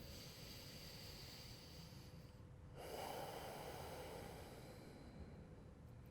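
A slow, full inhale during a twisting vinyasa yoga flow swells in the middle of a quiet passage, soft and close over faint background hiss.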